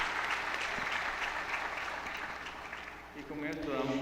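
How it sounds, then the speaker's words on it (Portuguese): An audience at a panel session on connectivity for remote communities applauds the four panel members. The clapping is sustained, moderately distant and fades slightly, and a voice speaks over it toward the end. "Quero um aplauso para os nossos 4 membros do painel."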